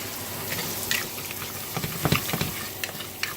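Ground cumin and oregano toasting in a hot pan give a steady, close, hissing sizzle, with scattered crackles and stirring scrapes popping through the continuous frying noise.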